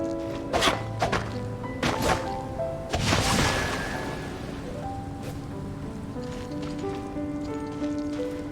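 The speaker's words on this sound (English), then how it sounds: "It's raining again." Rain falls in the Genshin Impact video game, a soft steady patter beneath game music and a few sharp struck hits early on, with no talking.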